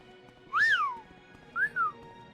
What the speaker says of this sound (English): whistling at me.